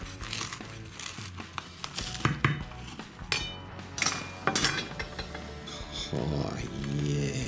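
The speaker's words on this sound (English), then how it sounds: "How about we cut that thing open and see what it looks like on the inside" A knife saws through an Aussie steak sandwich on a board in a home kitchen, giving a run of crinkly, crunchy cuts and light clinks of cutlery and plate, close and uneven, with no talking.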